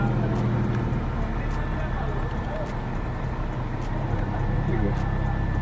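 A BMW M340i on H&R lowering springs rolls slowly out of a driveway, its low engine and road rumble steady and heard from inside the cabin, with a voice speaking over it.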